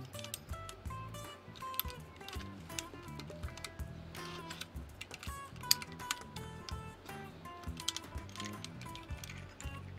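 Mechanical keyboard with its keycaps refitted, typed on in quick irregular clicks and clacks, steady and fairly faint throughout.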